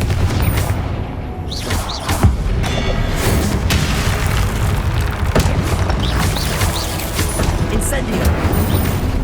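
Confringo fire-blast spell explosions in the video game Hogwarts Legacy, a run of sharp booming bursts in quick succession over a busy, loud battle soundscape.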